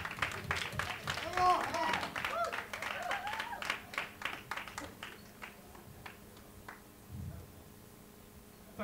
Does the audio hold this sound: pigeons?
no